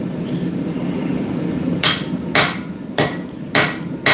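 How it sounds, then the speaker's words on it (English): Small hammer blows on a kiridashi blade being forged, four ringing metallic strikes at an even pace after a quiet stretch of workshop hum, close and clear. "he says as he continues using the tiny little baby hammer."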